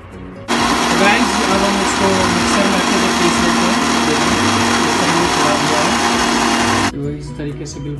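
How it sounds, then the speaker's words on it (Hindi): An electric mixer grinder whirs steadily at high speed, grinding green chili and garlic into a paste, running loud and continuous for about six seconds before stopping. "इसके बाद इसको मैं ग्राइंडिंग करूँगा मिक्सर से।"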